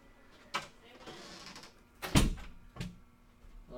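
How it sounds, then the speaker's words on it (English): A door swings and shuts with a solid thud, followed by a softer knock and faint rattling. "let me close the door"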